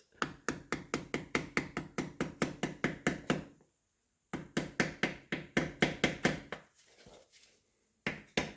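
A part is tapped with a hammer while a SAJO milling machine is being restored: quick, even runs of sharp metallic knocks, about a dozen blows each, separated by short pauses, close and crisp.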